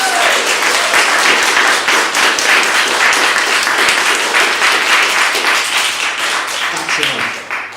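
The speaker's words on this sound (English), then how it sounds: "So I think Joe needs a big round of applause." An audience gives a loud, sustained round of applause, dense clapping close and full throughout, tapering off only at the very end.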